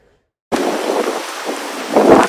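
Rain and storm from Hurricane Ian, a Category 4 storm lashing western Florida, picked up by a weather camera: a dense, loud roar of rain and wind begins abruptly after silence and surges stronger near the end, with no talking.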